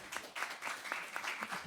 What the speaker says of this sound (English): I would like everyone to join me in a round of applause for Bill Press, who...